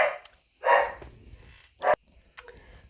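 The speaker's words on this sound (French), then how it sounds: "j'ai mon chien qui a aboyé" A dog gives three short barks, spaced unevenly, from a little distance in a quiet room with a faint steady background hiss.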